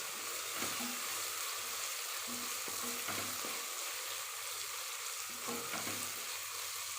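Ingredients sautéing in a pan for Ambur-style chicken biryani, with a continuous bright sizzle broken by soft stirring scrapes and clinks throughout, nothing spoken.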